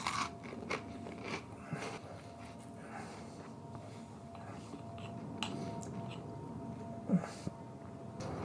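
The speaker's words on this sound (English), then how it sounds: "Can't you hear me chewing on it?" Close, wet chewing and crunching of salty, fishy food spread on toast, steady mouth noises with faint breathing and no speech.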